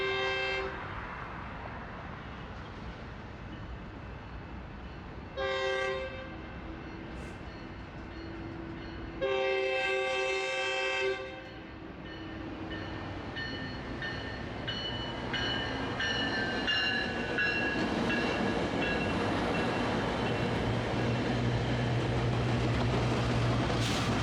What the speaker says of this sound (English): Looks like it's a Metrolink headed for Union Station.